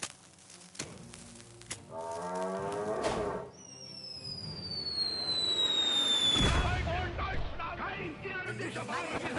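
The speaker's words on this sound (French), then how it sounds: "Bien sûr, je vais balancer la bombe." Bomb explosion in the South Park: The Fractured But Whole game, a deep rumbling blast with descending whistling effects amid game music and brief talk.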